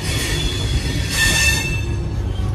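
Inside a 3E AC economy coach of the 12860 Mumbai Gitanjali Express, steady close rumble of wheels on track and high squealing tones run throughout, with the squeal swelling briefly midway.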